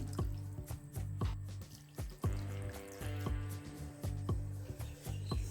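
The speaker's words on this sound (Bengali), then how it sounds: "এর মধ্যেই ছানার জলটা ঝরিয়ে নিচ্ছি এবার ঠান্ডা জল দিয়ে ভালো করে ছানাটাকে ধুয়ে দিচ্ছি" Whey drains from fresh chhana through a cotton cloth set over a strainer, and the curds are then rinsed with cold water, giving steady close trickling and splashing with repeated drips throughout.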